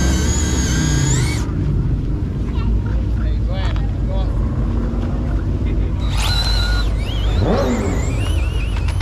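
An Eruption Green Ford Shelby GT500 with bronze wheels rumbles loudly and steadily in a parking lot at a Mustang Week 2023 kickoff party, with crowd voices and other car noise around it.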